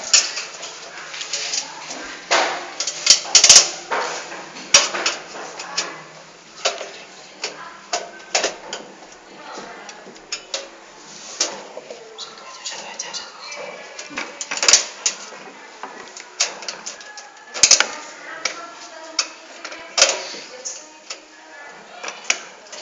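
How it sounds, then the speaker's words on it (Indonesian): Dense, irregular clicking and ratcheting of a screwdriver driving bolts during computer assembly, many sharp close taps in quick uneven bursts, with faint speech in the background. "Dan kita menggunakan obeng untuk memasang bautnya."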